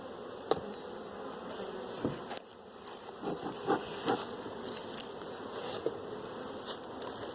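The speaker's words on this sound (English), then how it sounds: "Some angry bees flying out at me." Angry honey bees pour out of a hive during an inspection, a dense, steady buzzing drone lasting throughout with occasional sharper passes of individual bees close by.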